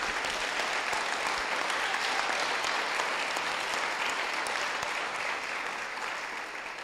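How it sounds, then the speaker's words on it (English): An audience at a winter sports banquet applauds the seniors, with loud, dense clapping that holds steady for several seconds and then begins to taper slightly at the end. "So seniors, let's give them one last round of applause for everything you've done."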